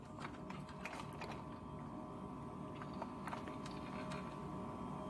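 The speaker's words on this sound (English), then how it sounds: "So they're stepping up the gears to give it a bit more torque." Plastic rear gears of a cheap New Bright RC truck, stepped up for torque, whirring steadily up close with a continuous mechanical buzz and scattered ticks and clicks throughout, with no talk.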